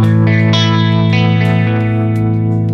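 An electric guitar played through a Mooer micro vibrato pedal gives thick, sustained distorted chords with a steady pitch wobble, loud and continuous, with no talking.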